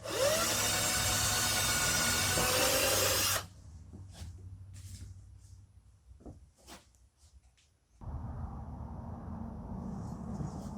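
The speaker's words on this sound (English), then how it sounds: "I'm just going to show drilling a hole." A power drill with a 3/32-inch bit whines loudly and steadily for a few seconds drilling a small hole in wood, stops, then after a pause of faint clicks and handling noises starts up again.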